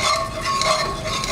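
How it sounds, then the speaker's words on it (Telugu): A ladle gently stirs cooked chukkakura (sorrel leaf) dal in a pot, producing a close, soft, continuous scraping and thick sloshing for a brief moment, with no talk. "జస్ట్ నేను చూసారా ఇలా గరిటతో లైట్గా ఇలా కలుపుకుంటున్నాను"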